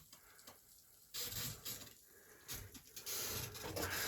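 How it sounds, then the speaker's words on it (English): A valve in an abandoned mine spits water in irregular hissing, splashing spurts, with several bursts separated by quieter trickling, heard close and alone. "It's a valve that's spitting water."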